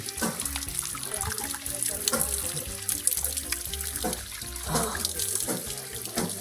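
Continuous rushing, splashing waterfall close by in Bandarban, steady and full, with faint voices mixed underneath.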